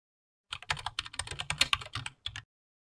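Typing on a computer keyboard while entering a web address in a browser: a quick run of close, crisp key clicks lasting about two seconds, with a short pause before a final burst, heard alone with no talk.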